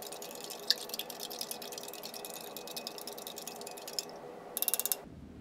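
Orange Tang powdered drink being stirred into about 12 ounces of water, giving a steady run of small clinking, rattling strokes up close, followed by a quick burst of sharper clinks before it stops.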